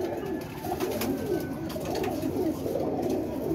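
Soft, steady cooing from flying pigeons being handled and checked by their keeper, a continuous low murmur close by.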